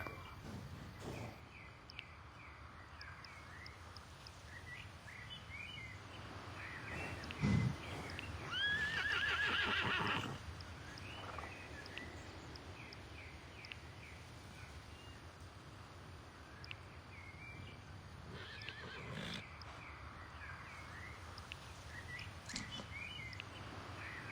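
An Andalusian horse in a video game whinnies loudly once mid-way, with hoof clip-clops and faint bird calls in the surrounding game ambience.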